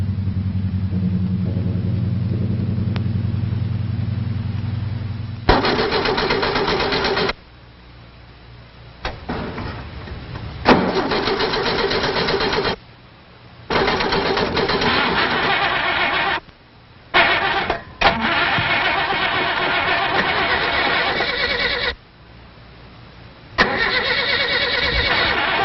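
A car engine starts and runs, with rough bursts of rumble broken by short quiet gaps over roughly twenty-five seconds, heard close and alone.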